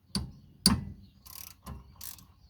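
Ratchet wrench clicking as 10mm bolts on a Honda Prelude rear brake are loosened: a few short, sharp mechanical bursts spaced over a couple of seconds, close and moderately loud, with no talking.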